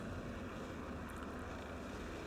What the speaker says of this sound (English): footage here of a helicopter taking off